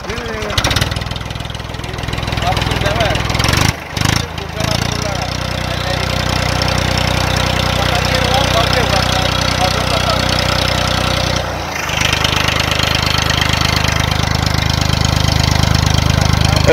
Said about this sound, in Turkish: traktör çalıştı